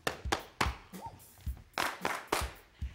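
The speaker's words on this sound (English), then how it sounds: "Then you clap your hands." Hands clapping along to a children's dance routine in a kids' show: a series of sharp, fairly close claps in an uneven rhythm, with a brief sung or voiced tone between them.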